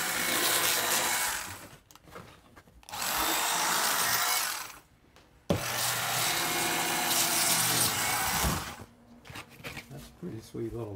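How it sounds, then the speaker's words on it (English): A small upholstery saw with a spinning octagon blade, similar to a jigsaw, runs in three loud buzzing bursts of a few seconds each, separated by short pauses. People talk quietly nearby. "It's like a jigsaw, but it's got a spinning blade."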